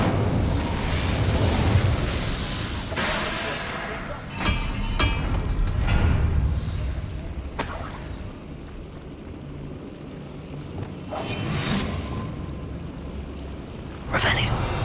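Incendio fire spells cast in Hogwarts Legacy, heard as a string of loud whooshing bursts and booms with several sharp flares, played under continuous talking.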